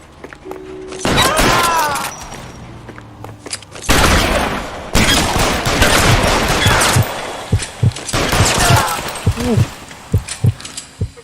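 Video game gunfire from L.A. Noire, with bursts of loud rapid shots, booms and shattering impacts running for several seconds at a time under excited talk.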